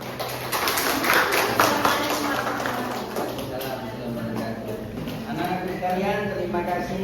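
Students in an Indonesian classroom clap together in a scattered burst of applause, mostly in the first two seconds, heard under ongoing talk from a teacher and children.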